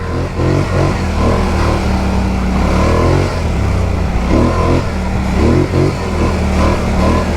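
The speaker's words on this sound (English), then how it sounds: "You may hear this thing revving up a little bit." A loud engine revs steadily at low throttle, rising and falling slightly as a Polaris Scrambler 1000 ATV rumbles slowly through whoops.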